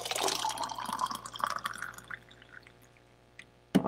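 Hot water is poured into a glass for a hot toddy cocktail, giving a soft, close splashing and trickling that fades over a few seconds and ends with a small knock.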